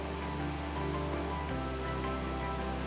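Steady, broadband rush of a waterfall, loud and continuous throughout with no breaks, a dense white-noise roar with a slight low-end shift midway.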